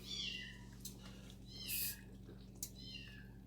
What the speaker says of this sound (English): I know y'all hear our little kitten in the background.